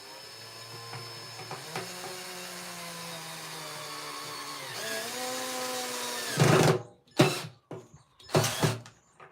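A power drill whirs steadily for several seconds with a rising and falling pitch, then stops and is followed by a few short, loud bursts as the bit bites into wood.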